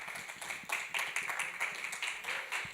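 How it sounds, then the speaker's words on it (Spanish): An audience in the Jorge Luis Borges auditorium of the National Library gives faint, scattered applause to welcome a film director, uneven claps fading in and out for a few seconds. "lo recibimos con un fuerte aplauso"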